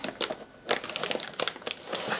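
A plastic bag crinkles in irregular, crackly bursts as it is pulled off a MONACOR / IMG Stageline MX-2IO two-channel USB recording interface during unboxing. The bag sounds close and moderately loud, with no voices.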